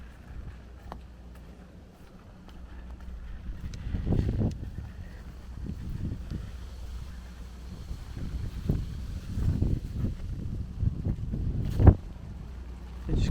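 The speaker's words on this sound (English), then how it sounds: "I just got hit with a gust of wind." Gusty wind during a thunderstorm in Brooklyn, New York, buffets the microphone outdoors in rolling low rumbles that swell and fade, with a few stronger gusts and sharp bumps near the end.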